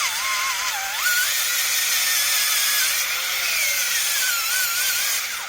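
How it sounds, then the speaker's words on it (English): A power drill is driven and forced down into wood, its motor whining steadily at close range while the pitch sags and climbs under load, with no talking. "You could do the drill, take the drill, and then just force it down like this."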